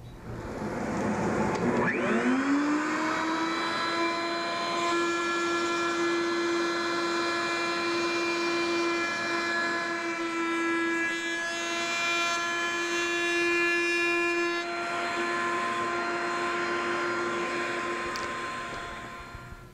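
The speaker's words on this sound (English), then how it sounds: "I'll change router bits and cut my final profile" A router spins up and whines steadily as it cuts the final edge profile on a wooden lamp top, a loud sustained tonal drone lasting throughout with no talking.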